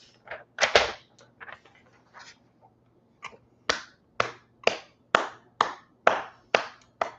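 A single person claps, first in a loose burst, then after a pause in a steady run of about eight sharp, close, evenly spaced claps with no talking.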